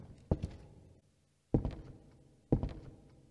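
A locked door being tried in the horror game White Day 2: three separate thunking rattles of the handle and door, each a sharp knock with a short decaying tail, spaced about a second apart.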